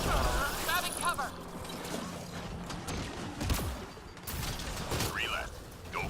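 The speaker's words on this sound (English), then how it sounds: "Come on, reload, reload, reload." Weapon reloading in the Apex Legends video game: rapid mechanical clicks, ratchets and metallic clacks of the reload, mixed with bursts of gunfire, with voices talking over them.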